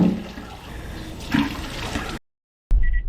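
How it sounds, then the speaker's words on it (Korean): Water splashing and running in a bathroom as someone washes their face, close and moderately loud for about two seconds before cutting out briefly. "화장실에서 세수하고 가겠습니다."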